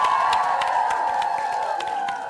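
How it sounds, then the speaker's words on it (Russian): A hall audience at a contest final claps and cheers in a dense, steady wash of applause with shouts on top, loud and close, easing slightly toward the end. "Друзья, аплодисменты!"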